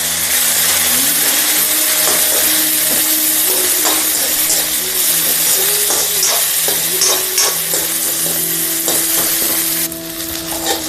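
Ingredients for foxtail millet masala dosa fry in a pan with a loud, continuous sizzle, and a spatula scrapes and stirs throughout.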